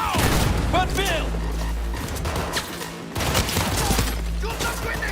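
Gunfire in the Cyberpunk 2077 video game: dense bursts of shots and booms in a loud, busy firefight, layered under game music and shouted character dialogue.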